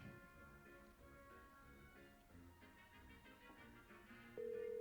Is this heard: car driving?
no